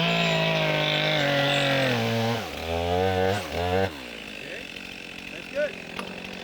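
A chainsaw cuts a tree while felling with a wedge in the forest, loud and close, its engine revving, bogging in the cut and dropping to a rough idle.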